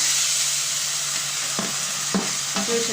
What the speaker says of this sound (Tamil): நல்லா அந்த பச்சை வாசனைலாம் போகிற வரைக்கும் நம்ம வறுத்துக்கலாம்